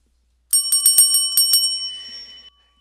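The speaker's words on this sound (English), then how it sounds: "that's my bell" A bicycle bell is rung rapidly several times in a bright metallic trill, close and clear, then its tone fades out into silence.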